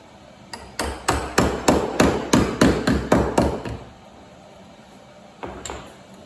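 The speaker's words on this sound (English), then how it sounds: "We may have to take a hammer and just tap this a little bit to get it to fit." A hammer taps a metal car body patch panel in a quick, steady run of about a dozen sharp strikes, then pauses before two more taps close by.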